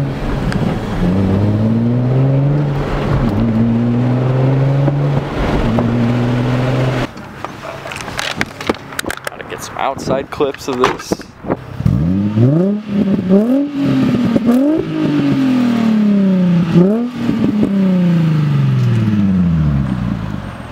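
Single-exit exhaust car revving hard, loud and close: a steady high-idle drone for several seconds, then a rough burst of crackles and pops, followed by repeated rising and falling revs alone.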